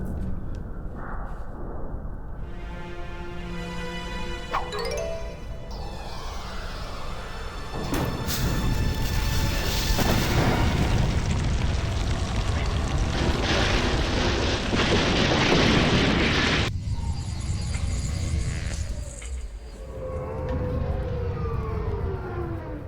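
A bomb goes off in Beyond the Edge of Owlsgard amid a dense, loud game soundscape of rising siren-like tones, a sustained roaring blast and swirling effects that surge, cut and resume over many seconds.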